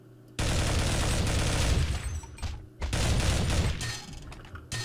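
Gunfire in Counter-Strike 1.6 during a JailBreak match: dense, loud bursts of rapid shots fill the clip, with a brief lull in the middle before the firing resumes.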